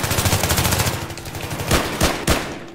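Rapid automatic gunfire in Battlefield 3 rattles in a dense, steady burst, followed by a few separate louder shots near the end, close and loud with no talking.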